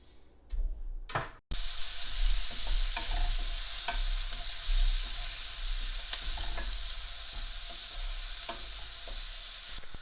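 After a couple of sharp knocks, butter and oil hit a hot pan and break into a loud, continuous sizzle that stays close and steady, with light crackles and small clinks scattered through it.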